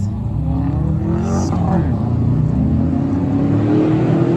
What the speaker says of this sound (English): The busy street with the loud car, that's Grand Avenue.